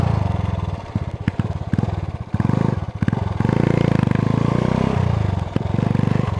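A Honda CG 99 motorcycle fitted with a GP Competition exhaust rides along a dirt road, its engine loud and close with a raspy, pulsing exhaust note that rises and falls as the rider accelerates over bumps; no talking.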